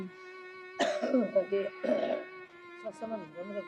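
A person coughs harshly two or three times in close succession, nearby and loud, over a steady humming tone in the background.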